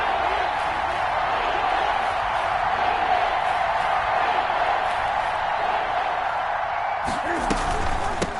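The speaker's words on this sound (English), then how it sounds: "the crowd getting into it as we come up on a big third down" Football stadium crowd roaring steadily ahead of a big third down, a dense, continuous wall of cheering that holds throughout, with a few sharper knocks near the end and a broadcaster's voice mixed faintly under the noise.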